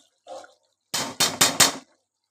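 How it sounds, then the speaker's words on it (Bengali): Jackfruit curry being stirred in a pan after fried onions go in: a faint scrape, then four quick, close metallic clanks of a spoon against the pot. "বেরেস্তাটা দিয়ে দিলাম দিয়ে একটুখানি নেড়ে দিলাম"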